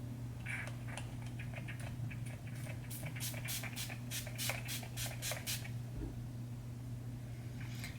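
A rapid series of short, hissing spritzes from a rose water facial setting spray bottle, several quick pumps in a row, close by with no talking.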